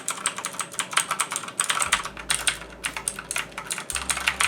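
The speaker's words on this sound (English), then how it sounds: "this is the EU mechanical keyboard, cheapest mechanical keyboard on Amazon" Fast, uneven clacking of keys on a cheap $17 mechanical computer keyboard, close and fairly quiet, with a low hum under parts of it and no talk.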